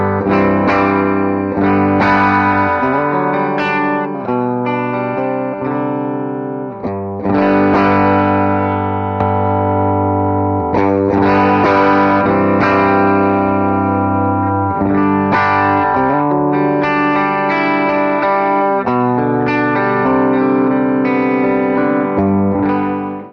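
Electric bass played through a pedalboard with ToneX: sustained, distorted notes with chorus-like shimmer ring out in a loose riff, loud and continuous for over twenty seconds with no voices.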